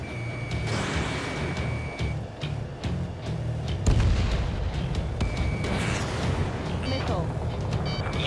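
Enemy fire and explosions in the jet combat game Ace Combat 7 rumble continuously with repeated heavy booms, warning beeps and a sharper blast partway through, while radio voices talk over the din.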